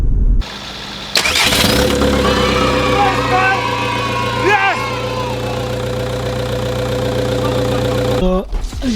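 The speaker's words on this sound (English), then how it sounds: "Engine was in the car, it was running." A PD150 ARL diesel engine swapped into a MK5 Volkswagen Golf runs steadily at a close, fairly loud idle, with a low drone under a brief mid-clip disturbance, then cuts off near the end.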